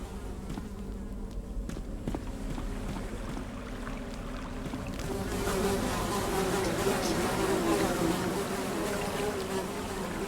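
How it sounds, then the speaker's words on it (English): Flies buzzing close and persistently in a dark video game cave, droning steadily throughout, with a broader rushing wash joining midway. "Despite the buzzing flies"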